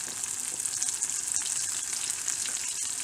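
Ground split chickpea dal frying in melted unsalted butter and oil, giving a steady, close, continuous sizzle with a bright hissing texture and no pauses or voices.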